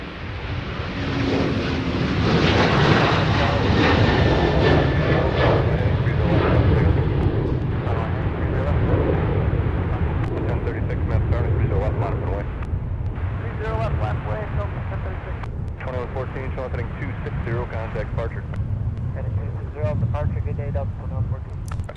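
A KLM Boeing 787-9 departs on a windy day at Minneapolis–Saint Paul airport, its loud, broad jet roar swelling over the first several seconds and then easing. Wind buffets the microphone, and someone talks over the rumble later on.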